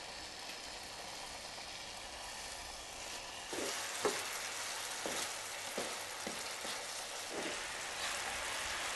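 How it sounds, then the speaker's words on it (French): Pan-frying with sugar and raspberry vinegar, a soft sizzle that rises partway through into a stronger hiss with several scraping stirs and clicks of utensil against pan. "Je vais juste les cuire à la poêle avec du sucre."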